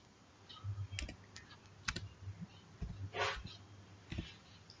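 Computer keyboard typing with tab key presses, a scattering of close, quiet clicks and taps in an irregular rhythm, with a faint hum behind and no talk.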